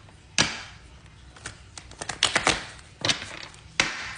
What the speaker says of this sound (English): Okay, so this is the first shuffle.